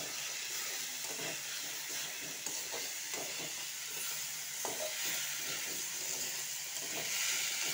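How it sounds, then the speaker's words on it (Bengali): Potatoes sautéing in a pan while making masala bhindi, a steady close sizzle and hiss with occasional stirring scrapes throughout, no talking. "আলুটা আমি কিছুক্ষণ কষিয়ে নেব।"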